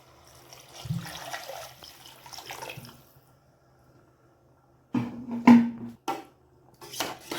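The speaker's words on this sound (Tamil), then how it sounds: "நான் 1 லிட்ரு பாட்டிலுக்கு நான் 1 லிட்ரு தண்ணி எடுத்திருக்கேன். இதை இதில் நான் ஊற்றுதேன்." About a litre of water is poured into a pot for chicken maqluba biryani, coming as a couple of short splashing, trickling bursts separated by quiet pauses.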